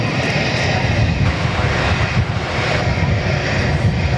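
A Network Aviation airliner's engines roar steadily at Perth Airport, a loud, continuous broadband drone holding throughout with no speech.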